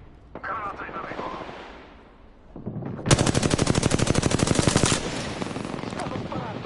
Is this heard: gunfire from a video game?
yes